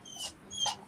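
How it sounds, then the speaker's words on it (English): A dog gives two short, high whimpering whines about half a second apart, fairly faint and close, with no talking. "Dog."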